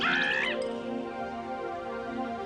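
A person mimics a frightened palm cockatoo with a brief harsh, raspy cry up close, which trails into a sustained droning tone.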